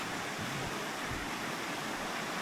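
A fast-flowing, muddy river beside Skenfirth Castle makes a dense, continuous rushing roar with no breaks, close and fairly loud.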